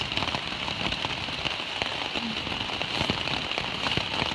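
Rain falls on a tent on an Appalachian Trail hike, a steady close patter with scattered heavier drops and no talking.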